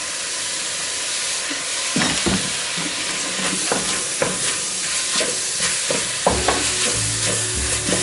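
Beef mince for chilli con carne sizzles steadily in hot oil in a pan, with repeated scraping stir strokes and clinks of a utensil over the continuous frying hiss.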